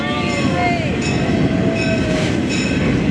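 A freight train passes close by, a loud rumbling roar of rolling cars with squealing wheels and drawn-out metallic screeches running throughout.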